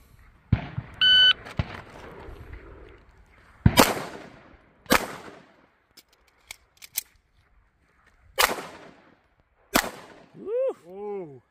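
A shot timer beeps and a handgun fires during a concealed-carry training drill, with a few sharp loud cracks spaced apart after the tone and brief voices near the end.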